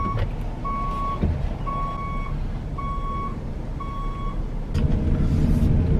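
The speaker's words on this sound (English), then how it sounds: "Why is it gonna have the backup noise?" Backup alarm of a reversing truck beeps four times in a steady, evenly spaced rhythm over a low diesel engine rumble, with the engine swelling louder near the end.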